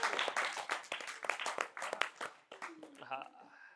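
An audience at a spiritual satsang gathering breaks into applause, with dense, fairly distant clapping that continues throughout and a voice briefly rising over it near the end.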